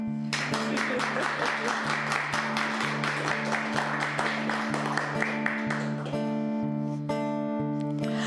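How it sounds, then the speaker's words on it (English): An audience claps together in a steady rhythm along with sustained musical tones, then the clapping drops away after about six seconds while the music carries on. "You're allowed to clap."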